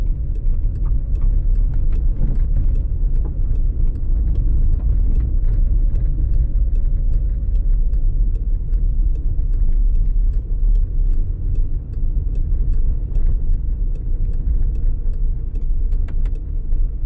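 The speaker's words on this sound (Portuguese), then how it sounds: "Vem lá o veículo." A vehicle on a dirt road between Paraná and São Paulo, a loud continuous low engine rumble and road noise with faint ticking from gravel, steady throughout with no voices.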